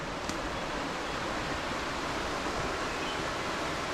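Steady broadband rush of the muddy East Branch of Brandywine Creek in Pennsylvania flowing past a small park, constant and fairly close, with no voices or other distinct sounds.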